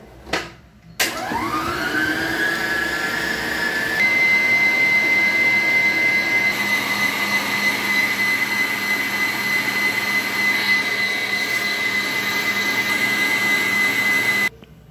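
A stand mixer beats an ice cream base of milk with a small spoonful of emulsifier: a steady, loud whirring motor drone with a high whine that holds for about fourteen seconds before cutting off.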